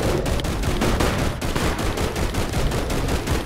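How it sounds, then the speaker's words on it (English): Rapid, loud gunfire from the video game Bigfoot, a dense burst of closely spaced shots that fills the whole moment with no talking. "Get ready, shoot him again."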